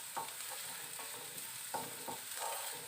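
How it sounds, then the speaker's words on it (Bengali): Sliced onions fry gently in a pan under a soft, steady sizzle. A spatula scrapes through them in several distinct strokes, spaced irregularly over a few seconds. "পেঁয়াজটা ভাজা ভাজা হয়ে এসছে।"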